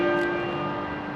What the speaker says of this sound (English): At 6 o'clock, a bell rang at Westminster Abbey.